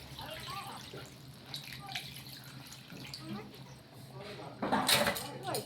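Water is poured into a pot of chicken and potato curry, a soft trickle building into a brief louder splash near the end, with a voice talking over it.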